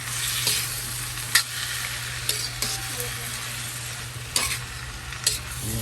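Seasoned taro stalks with anchovies fry with a continuous hiss in a pan, punctuated by several sharp scraping and tapping strokes as they are stirred, over a low steady hum; no speech.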